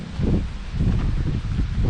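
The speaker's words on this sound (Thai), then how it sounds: "นี่อันนี้คือลมมาค่อนข้างแรงอยู่นะ" Strong wind buffets a Vidalido Instant Family 2020 tent at a campsite, a loud, continuous rumbling rush with gusty swells and rustling close to the microphone, no voices.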